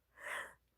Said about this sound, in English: Puppy dog is snoring.